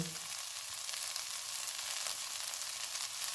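Beef momo filling with onion frying in a pan, a steady, close, continuous sizzle and hiss throughout with faint stirring scrapes and no voices.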